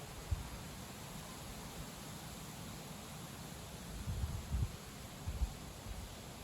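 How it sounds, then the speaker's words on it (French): Wind blowing steadily outdoors during a stormy autumn spell, a constant broadband rush with a few stronger low gusts buffeting the microphone near the end. "Voilà, donc le vent qui souffle."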